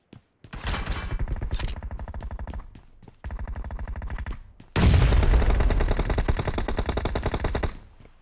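Shotgun blasts in a video game come as loud, close, booming shots: rapid strings of reports with short gaps, then a heavier sustained barrage near the end, with no voices.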